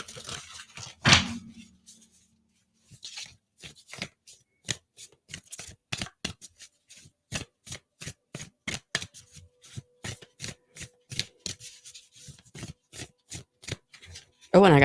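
Close, crisp riffle shuffling of a deck of cards in quick repeated bursts, one fuller flurry near the start and then a long run of sharp, evenly spaced snaps, with a brief voice at the end.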